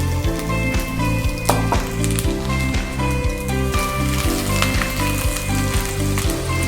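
Ginger and green chili frying in a mix of oil and ghee with whole spices, a steady close, loud sizzle and crackle that continues without pause.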